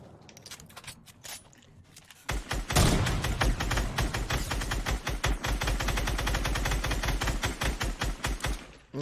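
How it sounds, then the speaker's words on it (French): Rapid bursts of gunfire ring out in a battle royale video game match, starting after a quiet lead-in, then rattling on in dense, loud, near-continuous volleys with sharp individual cracks. "Oh, ça tire sniper."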